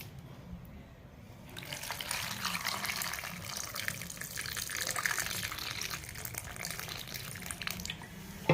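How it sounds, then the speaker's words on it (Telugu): Water pours steadily into a box holding lemons, a close, continuous splashing stream that swells after the first second and keeps flowing without a break. "దీన్ని నిమ్మకాయలు మునిగే వరకు అయితే నీళ్ళు అయితే పోసుకోవాలి"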